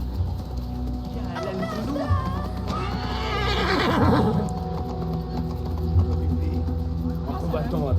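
A horse in Assassin's Creed Mirage whinnies and its hooves clip-clop at a steady pace, mixed with game ambience while people talk over it.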